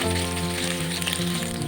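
Grated coconut fries in oil over a low flame for Bengali chholar dal. A steady, soft sizzle runs throughout, with a constant tonal hum underneath.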